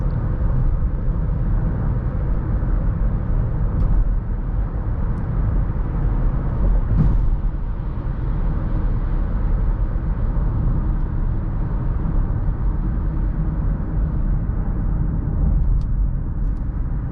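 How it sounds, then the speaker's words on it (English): Steady low road and tire rumble inside a 2020 Acura MDX cruising on the road, a continuous broadband drone with a few faint knocks, moderate and unchanging throughout, no talking. "I'm definitely not noticing any major problems in terms of road noise."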